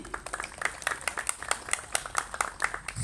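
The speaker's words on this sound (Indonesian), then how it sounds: "Kita sambut aplaus tepuk tangan tim dari Giri Bangkit." Faint scattered applause from a small crowd at a football match, greeting the Giri Bangkit team, steady light clapping without a swell or finish.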